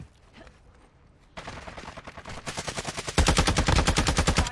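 Video game gunfire with incendiary rounds: after a quiet start, rapid automatic bursts grow louder and denser, ending in a loud, fast stream of close shots.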